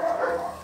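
Griffon puppies offered for sale let out a brief, high, tonal whine or yip, close and fairly clear, lasting under a second.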